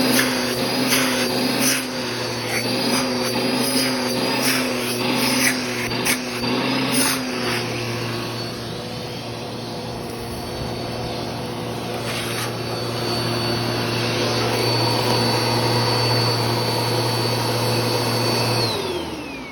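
A Bissell PowerForce Turbo Rewind Pet (model 1797) vacuum cleaner runs continuously with a steady loud motor whine and suction roar, pitch shifting slightly partway through.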